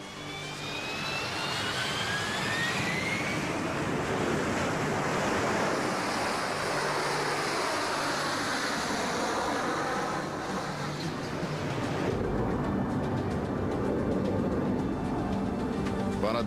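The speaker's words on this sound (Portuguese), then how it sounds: "11 toneladas de impulso erguem as 7 toneladas do Harrier," A Harrier jet thunders through a vertical takeoff, its engines roaring in a dense, loud wash of thrust with a rising whine early on and a sharp change in tone near the end, steady and overpowering throughout.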